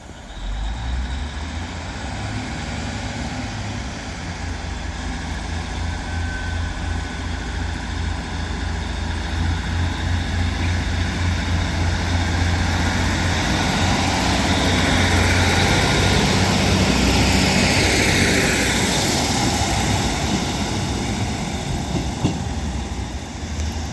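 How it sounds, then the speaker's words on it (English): A Northern Class 156 diesel unit pulls out of Salford Central station on a service to Blackburn, its loud, close engine rumble swelling steadily as the wheels roll, with no talk over it. "This Northern 156 departs Salford Central now."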